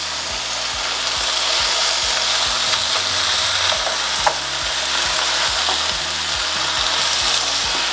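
Okra tossed into a hot pan with onions, garlic and ginger, stirred right away: a loud, steady oily sizzle runs throughout, broken by regular low knocks and scrapes of the spoon against the pan.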